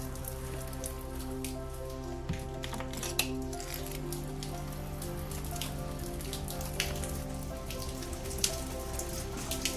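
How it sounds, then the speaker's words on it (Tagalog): Rain falls steadily in Saint John, New Brunswick, a soft, even patter with occasional louder drops, heard faintly over a low, constant hum. "May ulan pala."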